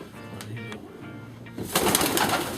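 Racing pigeons coo softly in a loft, low repeated coos near at hand, followed by a louder burst of fluttering or rustling activity toward the end.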